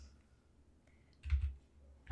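Computer keys pressed while modelling in Blender, a few soft scattered clicks with one louder cluster of taps near the end, quiet and close.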